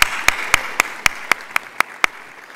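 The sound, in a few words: audience applause at award gala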